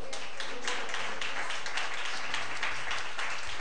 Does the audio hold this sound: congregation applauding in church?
yes